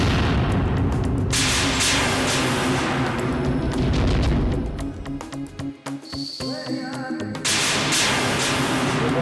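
A magical blast effect from a TV fantasy drama booms and crackles loudly, with dense rumbling bursts, a brief high shimmering ring in the middle and a strong final surge.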